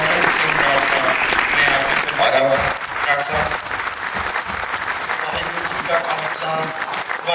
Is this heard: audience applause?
yes